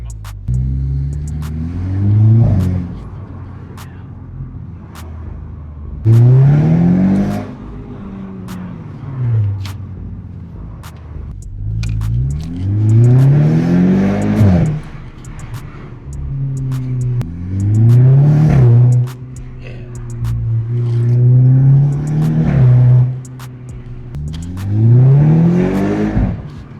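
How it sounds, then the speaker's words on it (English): A car fitted with a downpipe and a Milltek full race non-resonated exhaust revs hard again and again, each loud blip climbing and then dropping back to a deep burbling idle, close and unaccompanied, with no talk. "That was the exhaust install of the Downpipe and the Miltek full race non-res system."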